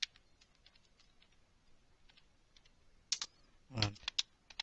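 Someone types at a computer keyboard while entering a program in Turbo C++, light scattered key clicks with a brief burst of louder, faster keystrokes near the end, quiet and close.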